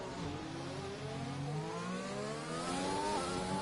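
Racing car engines drone and climb in pitch, layered whining revs steady and fairly faint, like game cars accelerating on a track.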